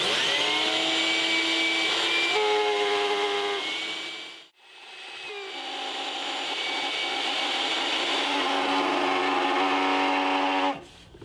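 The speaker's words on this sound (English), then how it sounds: "we're ready to vacuum." A shop vac cleaning a Volkswagen Type 3 Squareback whines loudly nearby, its pitch shifting as it sucks, dropping out briefly about midway, then rising again before cutting off abruptly.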